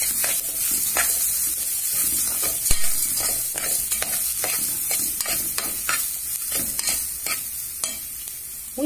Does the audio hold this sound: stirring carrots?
yes